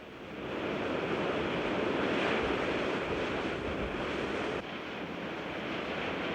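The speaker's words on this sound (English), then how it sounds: "the edge of the Nullarbor has been pounded and eroded by the might of the Southern Ocean" Southern Ocean surf pounds the long unbroken limestone cliffs at the edge of the Nullarbor in a steady, loud, broadband roar, with wind rushing across the microphone and a brief dip in intensity near the end.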